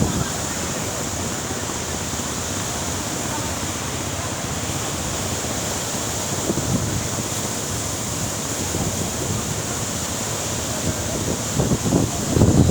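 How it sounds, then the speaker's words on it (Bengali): Sea surf rolls onto a shore where fishing boats come in at high tide, a loud continuous wash of breaking waves with wind noise buffeting the microphone throughout. "ঢেউ আসতেছে দেখছো জোরে জোরে জোয়ার আসতেছে"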